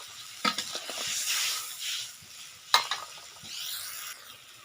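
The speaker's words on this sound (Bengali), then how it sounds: "তেঁতুলের জলটা দিয়ে দিচ্ছি।" Tamarind water poured into a hot pan for a prawn and radish curry, bringing a loud hissing sizzle that settles into steady frying, with a sharp clatter partway through and no voices.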